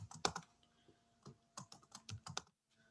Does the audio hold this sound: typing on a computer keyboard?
yes